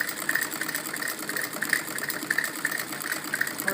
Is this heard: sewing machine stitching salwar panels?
yes